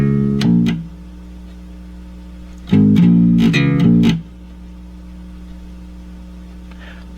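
Bass guitar plays the intro of a song, two short bursts of plucked, repeated notes separated by a pause over a faint hum, close and clear.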